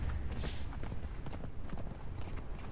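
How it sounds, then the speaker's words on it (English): Horse hooves clopping at a gallop in the video game Conan Exiles, a quick steady beat mixed into dense game noise and faint voice throughout. "Oh, I need my horse right now."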